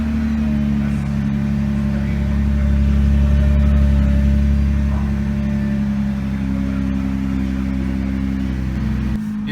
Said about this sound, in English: The sound of the exhaust is simply satisfying, I must say.